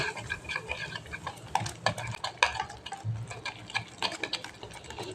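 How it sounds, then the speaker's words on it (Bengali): Spoon mixing batter in a bowl, with continuous wet stirring and irregular clinks of the spoon against the bowl, close and moderately loud. "ব্যাটারটা ভালো করে মিশিয়ে নেব"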